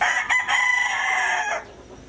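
A Black Bonanza gamefowl rooster at a game farm crows once, loud and close, a ragged drawn-out cock-a-doodle-doo that cuts off near the end, leaving faint background noise.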